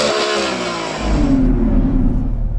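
A turbocharged sports car engine revs loudly up close, a sharp high roar dropping into a deep, rumbling drone.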